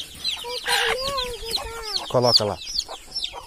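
A hen clucks close by among a newly hatched brood, with bright chick peeps scattered throughout and a person speaking briefly over the farmyard sounds.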